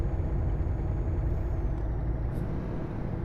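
A Scania R-series truck's engine brake in Euro Truck Simulator 2 drones in a low, steady rumble throughout, loud and continuous with no voices.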